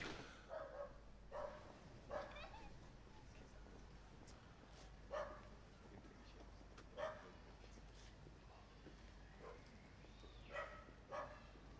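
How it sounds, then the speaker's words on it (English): Dogs bark at an outdoor town remembrance ceremony in Marlow. Sharp barks and yips come about every second or two, fairly faint and distant over a quiet crowd murmur. "There's always some dogs that don't like the loud noises that add to our atmosphere."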